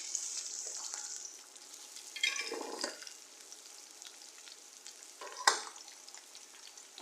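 Curry leaves and onion hit hot oil with whole spices, giving an initial sharp spluttering burst that settles into a softer sizzle, with a few louder stirring clatters and pops close by.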